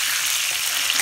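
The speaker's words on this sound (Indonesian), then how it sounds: "Jadi dia sudah bolong, kita goreng." Chilies and shallots fry in hot oil with a loud, dense, continuous sizzle and crackle, close up and with no voices.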